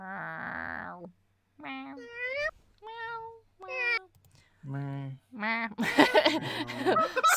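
A person's voice imitating a cat, giving a series of separate drawn-out meows with pauses between, close and clear, ending in a louder, rougher outburst.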